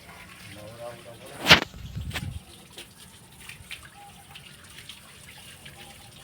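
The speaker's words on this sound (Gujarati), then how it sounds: "કેટલા દી પછી ટ્રેક્ટરને ધોવાનું કામકાજ ઉપાડ્યું છે આજે" Water splashes against a tractor with one sharp slap, followed by softer spraying and trickling amid quiet background activity.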